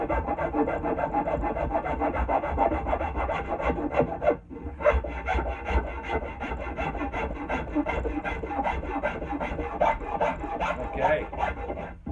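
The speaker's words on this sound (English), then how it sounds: "So I just flip my file over, my rasp over." Hand rasp worked over an American elm wooden handle, making close, continuous rhythmic scraping strokes in quick succession, with one brief pause partway through.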